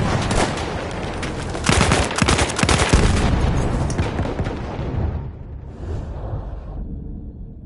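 Sustained machine gun fire in Battlefield 1, loud rapid bursts with heavy booming impacts, tapering off into a distant rumble and fading shots near the end.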